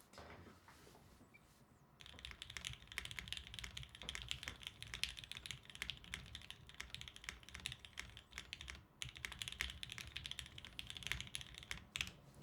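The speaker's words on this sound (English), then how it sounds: "15-second typing test, right?" A newly built custom mechanical keyboard is typed on rapidly and continuously during a typing test, producing a dense, even clatter of close key strikes with brief pauses, quiet and alone.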